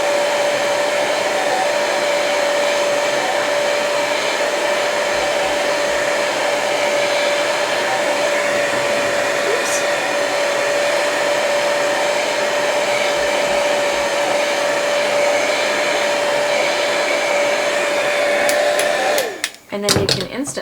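A heat tool blows a steady, loud stream of hot air over ink to make it fade, with a constant whirring hiss and an even tone that runs for about nineteen seconds before cutting off with some clatter.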